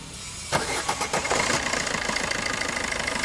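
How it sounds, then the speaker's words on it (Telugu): A Maruti Suzuki Swift Dzire VDi diesel car engine cranks and catches, then settles into a steady, rattling idle with a rhythmic knocking pulse, close and loud throughout. "మనకు ఇంజన్ సౌండ్ డీజిల్ వెహికల్ కాబట్టి సౌండ్ ఇట్లనే ఉంటుంది"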